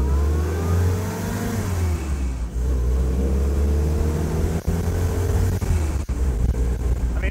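A 77-year-old Willys jeep engine pulls away after a double-declutch gear change, a steady close mid-pitched drone with rising revs and a few sharp gear-shift dips, wind buffeting the microphone throughout, no talking.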